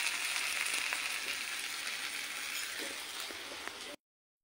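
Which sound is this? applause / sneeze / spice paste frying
spice paste frying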